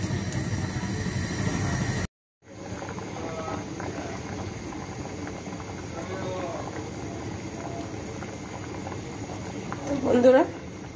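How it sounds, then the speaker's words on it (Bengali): Jackfruit seeds boil in salted water in a pot, giving a steady bubbling hiss that briefly drops out, with a voice speaking over it. "এই যে দেখেন কত সুন্দর করে ফুটতেছে।"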